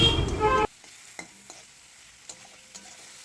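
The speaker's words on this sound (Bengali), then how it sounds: "মশলাটা ভালো করে কষিয়ে নেওয়ার পর এর মধ্যে দিয়ে দেওয়া হলো পরিমাণ মতো একটু ধনে জিরে গুঁড়ো।" A spice masala with ground coriander and cumin fries loudly in a pan for half a second, then falls silent apart from a few faint scattered stirring clicks.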